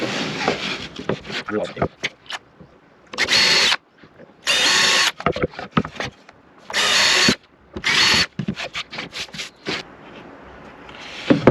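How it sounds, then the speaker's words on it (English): A power drill drives screws into a timber clamp jig, with several sustained whirring bursts of about a second each, interspersed with handling knocks and rubbing, close and loud, while someone talks between the runs. "Just going to pre-screw the holes."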